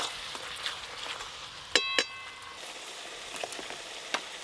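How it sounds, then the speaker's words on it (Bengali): Fish curry spice paste is fried in oil for a tilapia curry, with a soft, low sizzle throughout and a few close clinks of a utensil against the pan, no voices. "একটু পরে আর একটু ভালো করে কষে নিই"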